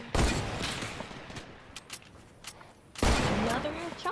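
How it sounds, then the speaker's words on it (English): Gunfire in the video game Fortnite comes as two rapid, loud bursts at the start and near the end, with quieter shots between, while players talk over it. "People are shooting us."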